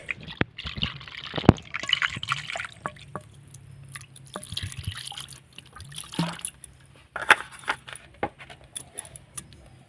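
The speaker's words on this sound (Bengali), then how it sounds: "এবার আমি ছানাটাকে ধুয়ে নেব ঠান্ডা জল দিয়ে" Chhana cheese curds, made with vinegar, are rinsed under cold water. Trickling and dripping water runs through the clip, mixed with close, irregular splashes and clinking as the curds are handled.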